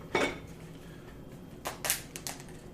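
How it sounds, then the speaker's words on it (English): Lobster claws and shell are cracked by hand: a sharp crack near the start, then a cluster of brittle snapping and clicking sounds later, close and fairly faint with no talk. "So break the claws,"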